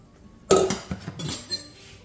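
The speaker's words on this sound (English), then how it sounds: "I'm just going to run a knife through it quickly." A knife runs quickly through cooked ham on a board for pea and ham soup, giving a sharp clattering knock followed by a few lighter taps and clinks.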